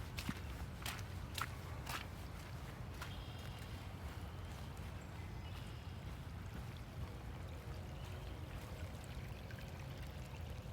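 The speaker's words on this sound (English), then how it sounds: "here's a lot of water running through here" Water running through a marsh, a steady soft wash of flow with several crunchy footsteps on wet ground near the start, fairly faint and without talk.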